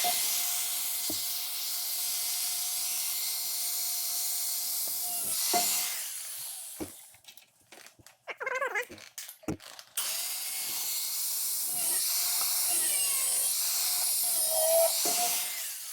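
Metal pieces for a Jeep TJ rear wheel well modification are cut with a power tool that gives a long steady high whine. A short break in the middle is filled with clattering, then the cutting resumes, close and loud.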